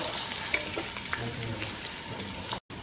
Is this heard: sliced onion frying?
yes